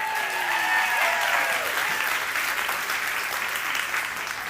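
A room full of people gives a round of applause during a psychology talk, dense clapping that starts strong and fades slightly over a few seconds, with a few shouts mixed in.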